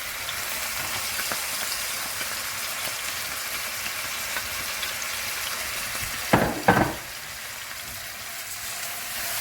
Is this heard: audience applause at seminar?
no